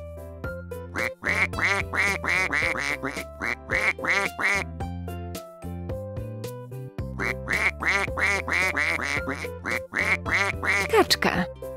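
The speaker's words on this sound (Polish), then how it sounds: "Kaczka." A duck quacks over and over in quick, rhythmic bursts of loud, nasal calls, with a short pause before a second run of quacks.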